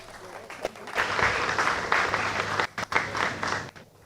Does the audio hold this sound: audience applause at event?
yes